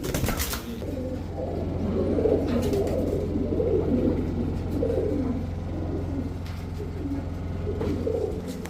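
Giribaz high-flyer pigeons coo softly and repeatedly, a low burbling chorus close by against faint background noise.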